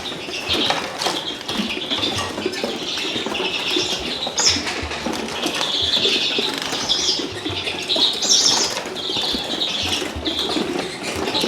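Young redpolls flutter and hop about in a show cage, with a continuous patter of wing flaps and scrabbling and occasional faint chirps close by.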